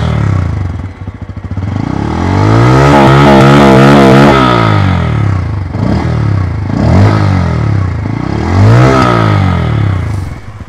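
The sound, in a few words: Bajaj Pulsar N160 motorcycle exhaust revving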